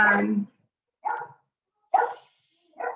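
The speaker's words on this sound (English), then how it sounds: "my dogs are going to start barking now" Four separate dog barks spaced about a second apart, the first deep and full, the later ones sharper and higher, fairly close with silence between.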